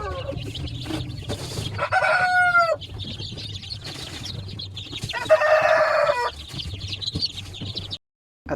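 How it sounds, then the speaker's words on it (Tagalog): Free-range chickens on a farm: a rooster crows twice, loud and close, over steady clucking and chatter from the flock, ending in a brief silence. "Ang ingay ng rooster natin."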